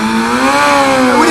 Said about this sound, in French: Et si tout va bien, un petit wheeling, donc une roue arrière.